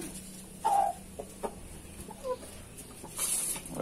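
Chickens cluck in a henhouse, giving a few close, separate calls and squawks that are spaced irregularly over quiet background noise.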